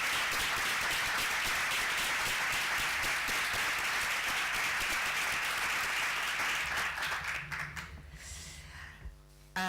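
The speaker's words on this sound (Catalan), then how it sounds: "Un aplaudiment per ell." An audience at a talk on energy poverty law gives a speaker a sustained round of applause, loud and even for several seconds before tapering off, with a voice starting to speak near the end.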